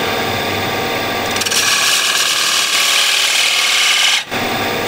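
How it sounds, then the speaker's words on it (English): Spindle gouge cutting a wide-rimmed cherry wood bowl on a lathe, a steady close rasping, scraping hiss that runs continuously for several seconds before a brief dip near the end as the tool lifts, then resumes. "So I'll actually go with the spindle gouge."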